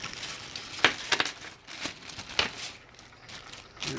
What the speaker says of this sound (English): So these, I'm going to put in this plastic bag.